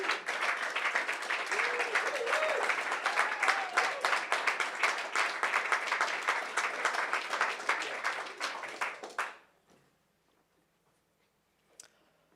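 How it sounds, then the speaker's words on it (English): Hackathon audience applauds a finalist for about nine seconds, a loud steady patter of many hands that fades out abruptly into near silence, with a brief faint sound near the end. "Let's give him another round of applause."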